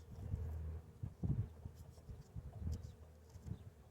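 Low, steady buzzing of many honeybees droning together inside a hive, fairly quiet and close, swelling and fading slightly with no voices.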